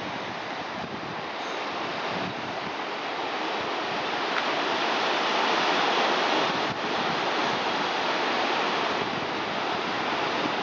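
Foaming sea waves wash continuously along the shore at Vorontsov Park, a loud, steady roar of surf and spray with gentle swells in intensity and no voices.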